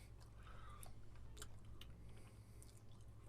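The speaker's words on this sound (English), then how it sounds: "He just chewing." Someone chews food close to the mic, soft wet squishing and smacking sounds that repeat irregularly over a steady low background hum, with no talking.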